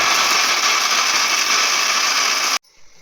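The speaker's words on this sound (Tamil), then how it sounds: "அதுக்கு வந்து தேங்காய், அதுக்கப்புறம் கசகசா, சோம்பு இது 3த்தையும் வந்து அரைச்சி எடுத்துக்கலாம்." Kitchen mixer grinder whirring at full speed as it grinds coconut, poppy seeds and fennel into paste, a loud steady motor whine that cuts off abruptly near the end, leaving quiet room sound.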